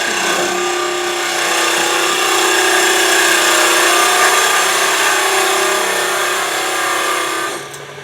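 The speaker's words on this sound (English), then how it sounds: "I'm going to stick my parting tool right in the end of this." A sharp parting tool plunges into the end of a small wood cutoff spinning on a lathe, giving a steady, loud, continuous scraping whine for most of the time that drops off abruptly near the end.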